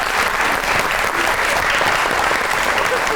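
Studio audience applause on a comedy talk show, a loud, dense and continuous burst of many people clapping with no pauses, filling the whole stretch evenly.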